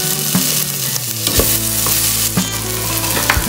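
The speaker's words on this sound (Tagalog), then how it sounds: "Kailangan lang gisang-gisa yung kamatis saka sibuyas." Sizzling and frying of tomatoes and onions sautéing in a pan with occasional stirring scrapes, steady and close, no voices.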